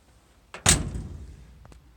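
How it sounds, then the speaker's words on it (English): A single solid thunk as the door of a 1961 Ford F100 unibody short-bed 4x4 pickup swings shut, close and sharp with a short metallic ring-out, followed by a faint click. "Door shuts really well."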